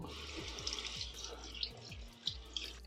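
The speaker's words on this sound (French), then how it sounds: "Moi je vais quand même passer sous l'eau la gouttière." A plastic teeth-whitening tray is rinsed under a running tap, giving a steady stream of water with small splashes and drips at moderate, fairly soft loudness.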